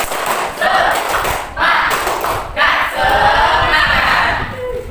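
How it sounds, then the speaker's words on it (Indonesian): A school class does the rhythmic 'tepuk semangat' spirit clap, a loud group of voices chanting together in bursts with thumping claps mixed in, close and energetic throughout. "Kita tepuk semangat satu kali lagi"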